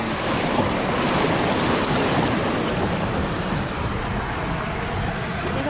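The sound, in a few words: water rushing down through rocks in Ouray, Colorado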